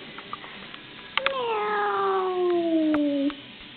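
A single drawn-out cat meow, clear and close, sliding downward in pitch over about two seconds in an otherwise quiet room.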